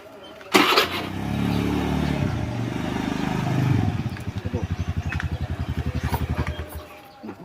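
A motorcycle engine catches with a sharp start and then revs up, settling into a steady, throbbing idle with a regular pulsing beat, close and moderately loud.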